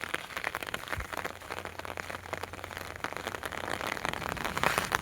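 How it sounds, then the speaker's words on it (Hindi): Water drops pattering like light rain, a soft irregular ticking spread across the clip at a faint, distant level with a low hum underneath. "पानी की बूंदें टप टप गिर रही है, वो आवाज है"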